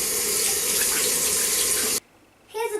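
Tap water runs steadily in a broad hiss while hands are washed before making chocolate cupcakes, then cuts off abruptly before a brief splash resumes.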